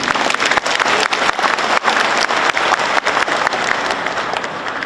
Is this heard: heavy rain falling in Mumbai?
no